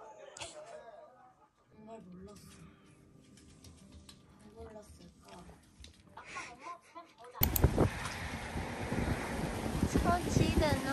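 Cold wind blows outdoors in Tokyo, quiet at first under a woman's speech, then surging abruptly into loud, rough gusts buffeting the microphone for the last few seconds.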